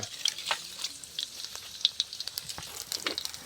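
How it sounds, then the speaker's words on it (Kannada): Cumin and mustard seeds tempering in hot oil give a faint, steady crackle with scattered small pops and spits, close to the pan and alone without voices. "ಒಗ್ಗರಣೆ ಕೊಟ್ಬಿಡು ನೀನು. ಎಣ್ಣೆ ಖಾರ ಐತಿ ಜೀರಿಗೆ ಸಾಸ್ಮೆ ಹಾಕ್ತೀಯಾ."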